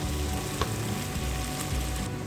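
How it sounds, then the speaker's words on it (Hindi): Chopped onions sautéing in a pan for stuffed tinda curry, a steady close sizzle with faint spatula scrapes and no talking. "अब प्याज अच्छी तरह से सौते हो गया।"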